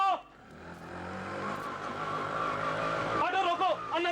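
An auto rickshaw engine hums and swells as it drives past on a deserted road at night, rising to its loudest near the end, with voices talking at the start and over the final second.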